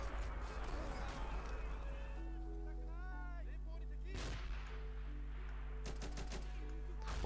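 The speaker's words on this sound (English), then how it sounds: "We've got a lot of explosions going off right now." Howitzer shells burst across a World War II-style battle in the strategy game Men of War: Assault Squad 2, with sharp booming blasts around the middle and end over a constant low rumble and scattered gunfire.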